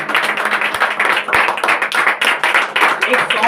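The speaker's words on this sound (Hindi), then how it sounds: "जोर से ताली बजाएंगे परमेश्वर की महिमा के लिए" Church congregation clapping loudly together in praise, a dense run of rhythmic claps with a faint hum underneath, close and energetic throughout.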